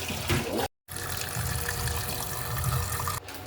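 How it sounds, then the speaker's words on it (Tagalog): Water is poured into a pot holding pork hock for nilaga soup, making a steady splashing, trickling stream with one brief break. "Lagyan rin tubig."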